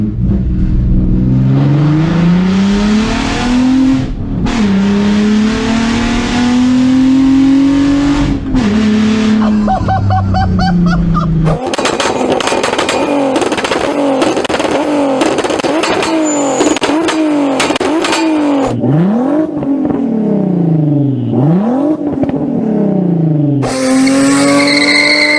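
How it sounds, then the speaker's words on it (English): Audi A3 3.2 VR6 quattro engine revving hard through a second gear pull, loud rising engine notes with gear changes and repeated surging sweeps, close and continuous. "this engine is known for the noises that it makes, and everybody loves the noise of this engine."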